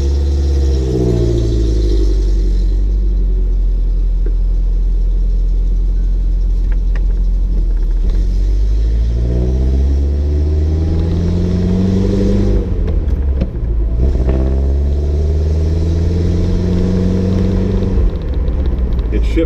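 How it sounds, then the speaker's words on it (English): A 1956 Mercedes-Benz 190SL with a floor-shifted four-speed gearbox pulls away, its engine droning loud and close and rising in pitch through repeated accelerations, then dropping back as it changes gear. Someone talks over it. "Release the brake, and off we go."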